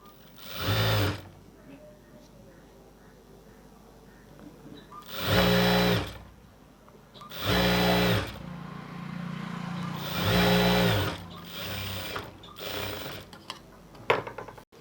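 A tailoring sewing machine stitches a folded hem on a blouse, running in four loud bursts of rapid stitching a second or two long, separated by quieter pauses with faint handling noise.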